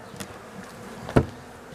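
Honeybees buzz in a low, continuous drone close by at an apiary during honey harvest, with one brief louder thump partway through.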